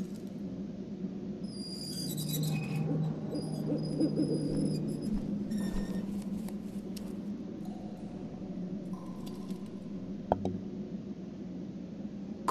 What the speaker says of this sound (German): Komischer Vogel, diese Schneeeule.